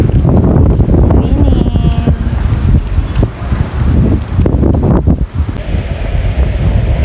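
Strong wind roars and buffets the microphone on a windy day, loud and continuous with gusty surges, while a voice talks faintly underneath.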